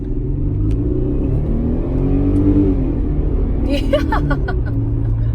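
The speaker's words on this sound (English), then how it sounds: "I'm just gonna do a quick acceleration run for you guys to show you how awesome it shifts and runs." A 2006 Mercedes-Benz E350 accelerates hard with its engine rising through the revs and a gear change audible, a steady mid-range drone throughout, and a brief spoken word plus a few clicks near the end.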